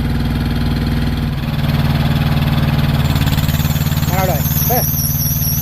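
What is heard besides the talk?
APU belt noise when the compressor engages and fan turns on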